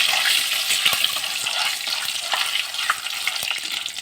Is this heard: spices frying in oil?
yes